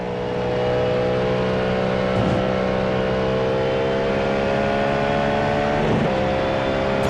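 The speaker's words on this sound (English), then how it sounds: "Car does sound good. Sounds real throaty, real meaty." A Cadillac GTP race car in iRacing holds a loud, steady engine note, with stacked harmonic tones climbing slowly through the rev range. Two brief shifts in pitch break up the drone.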